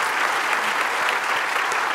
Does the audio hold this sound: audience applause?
yes